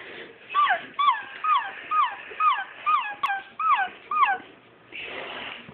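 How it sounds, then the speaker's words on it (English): A mother dog searching for her puppies whimpers and yips in a steady series of about eight high, plaintive cries, close by, followed by a soft rustle. "here's Sugar looking for her puppies"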